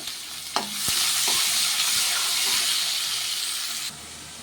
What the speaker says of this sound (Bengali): এবারে পেঁয়াজগুলো দিয়ে দিচ্ছি, এটাও লাল লাল করে ভেজে নেব।